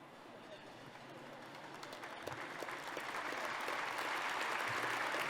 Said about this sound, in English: Thank you for the round of applause for our future leaders.